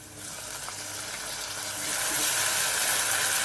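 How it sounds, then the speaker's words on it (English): Finely chopped garlic fries in a pan with a gentle, continuous sizzle that grows noticeably louder and brighter partway through, close and without voices. "So you just cook the garlic, but because the garlic's finely chopped, you don't want to"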